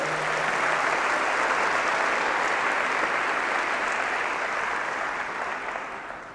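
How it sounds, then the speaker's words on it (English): Convocation audience applauding in a large hall, a dense, even roar of many hands clapping that holds steady and then slowly tapers toward the end, with no talk over it. "Let me hear a round of applause if you agree."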